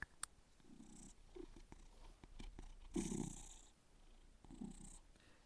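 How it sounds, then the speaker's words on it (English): A cat purrs softly and closely in rhythmic, rumbling waves, with a few faint clicks and rustles around it. "my cat, you want to hear him purr?"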